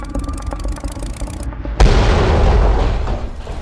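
A helicopter crash explosion: a steady rumble cuts off, then a loud sudden boom erupts and trails into a broad roaring, crackling wash.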